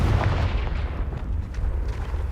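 A deep, rumbling Confringo blast spell from Hogwarts Legacy, a heavy low boom rolling on continuously with crackling debris, loud and close.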